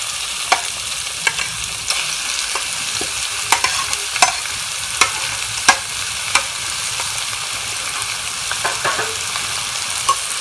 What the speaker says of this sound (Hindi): इसके अंदर डाल देंगे और लगभग 2 मिनट तक इनको फ्राई करेंगे।